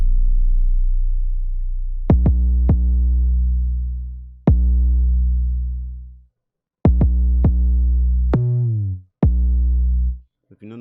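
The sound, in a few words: 808 bass notes in FL Studio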